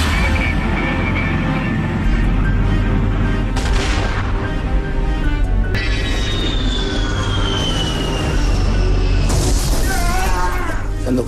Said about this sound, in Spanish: Cuando caen los primeros rockets